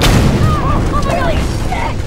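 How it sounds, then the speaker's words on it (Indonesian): Dynamite goes off inside a mailbox in a film scene: a loud, sudden boom at the start that rolls away into a rumbling tail, with voices coming through over the fading noise. "Tanpa mengetahui ada sebuah dinamit di dalamnya yang kemudian meledak"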